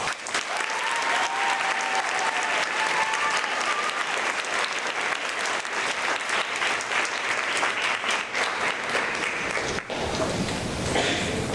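Sustained audience applause fills a school academic awards ceremony honoring summa cum laude students, a dense steady clatter of many hands that holds for about ten seconds before thinning near the end.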